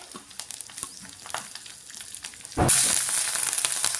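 Green chillies hit hot oil with asafoetida and curry leaves, starting with quiet clinks and stirring, then a loud sudden sizzle erupts and holds steady as they fry.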